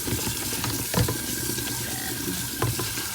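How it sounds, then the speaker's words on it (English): Cucumbers being rinsed in a colander under a running kitchen tap, a steady continuous water rush with a few brief clatters and splashes as the pieces are moved about. "So now I'm going to put the cucumbers into the colander and give them a thorough rinse."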